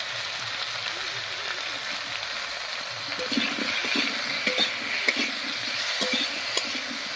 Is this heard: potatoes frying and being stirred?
yes